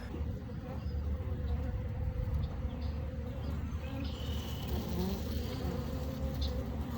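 A dense, steady hum of many honey bees buzzing close by around hive frames, continuous and fairly loud throughout with no talking.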